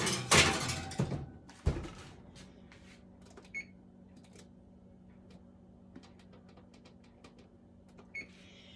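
A tray of apple bombs goes into a home oven: a clatter of the pan and a door thunk up front, then a solid shut, followed by quiet scattered ticks and light knocks in a still kitchen.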